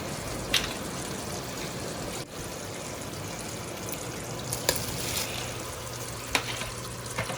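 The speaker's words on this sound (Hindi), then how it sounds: "पानी उबलना शुरू हो गया। अब मैं इसमें चावल डालूंगी।" Rice goes into a pot of boiling water while cooking sweet mutanjan rice, giving a steady, faint bubbling hiss with a few soft splashes and light knocks and no talk.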